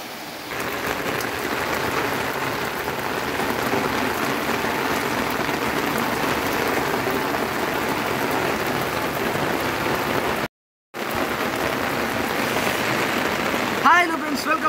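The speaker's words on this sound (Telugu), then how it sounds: "వాన అయితే బలంగా పడుతుంది" Heavy rain pours steadily on a village, a dense, loud hiss of drops hitting surfaces that continues with barely a break, with a brief voice near the end.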